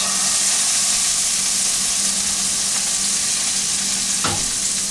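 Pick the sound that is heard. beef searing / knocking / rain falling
beef searing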